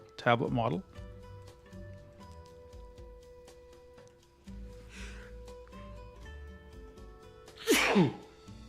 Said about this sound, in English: I apologize for the sneezing.